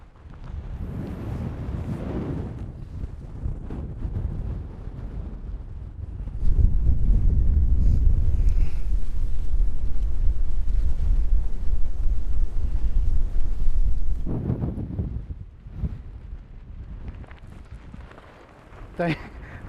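Strong wind gusts across an exposed fell at a wild campsite, roaring and buffeting the microphone in a continuous low rumble that swells sharply midway, then eases into intermittent gusts with brief speech-like sounds near the end.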